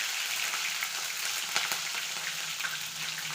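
Three chopped green chillies frying in hot oil for uppittu, a dense, steady crackling sizzle with small pops close by and no talking.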